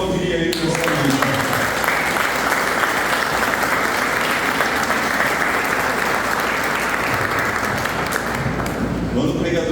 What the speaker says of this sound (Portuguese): Se eu fosse você, eu aplaudiria ele nessa noite.